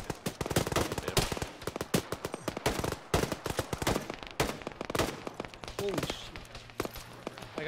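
Gunfire from the north during an Arma video game mission, dense rapid shots and machine-gun bursts cracking in quick succession, loud and close, tapering toward the end over faint background noise.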